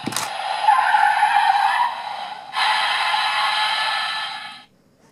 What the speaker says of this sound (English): So they made car tire squealing noises when he was on the ground